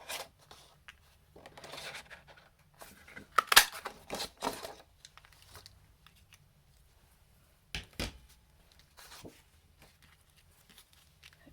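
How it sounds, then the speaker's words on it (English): Scissors cut through black card in short snipping bursts, close and crisp, with quiet gaps and light rustling of the card between cuts. "we need to cut out a body of our ladybird from black card"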